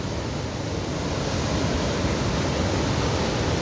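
Heavy floodwater pours over the collapsed BR-101 highway near a dam in São Mateus after torrential rains, a loud, steady, broadband roar of rushing water that never lets up, with no talking.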